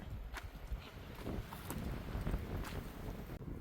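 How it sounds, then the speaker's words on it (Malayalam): Wind blowing across a hilltop, a steady rushing buffet against the microphone throughout, with no voices. "കാറ്റ് സൂപ്പർ."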